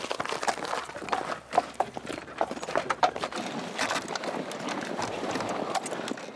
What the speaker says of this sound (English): Now it's a case of getting the horse to do all the hard work.